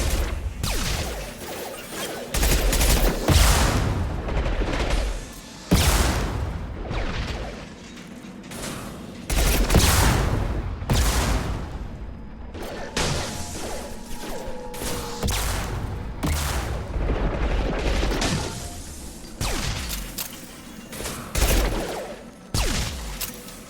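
Sustained gunfire from a Mass Effect battle, with dense bursts of automatic fire, booms and crashing impacts running almost continuously and loudly throughout.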